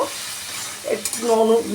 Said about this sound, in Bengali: হালকা ভাজা হবে তবে চিংড়ি মাছ খেতে স্বাদ লাগবে